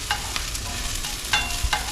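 Garlic fries in a pan with a steady close sizzle, while a utensil stirs and scrapes through it in several short clinks and swishes. No one speaks.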